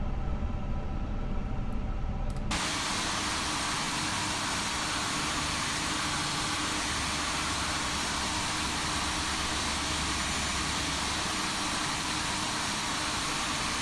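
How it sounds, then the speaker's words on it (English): Engine number 2 of an Airbus A350 starting: a steady, loud roaring whoosh that comes in abruptly and then holds constant for several seconds, with no talking. "Engine 2 start."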